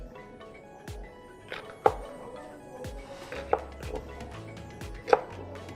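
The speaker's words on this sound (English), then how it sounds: "You're going to cut it." A knife chops rolled cabbage leaves on a board for pakodas, with a few distinct cuts spaced about a second apart and crisp, close thuds in a quiet kitchen.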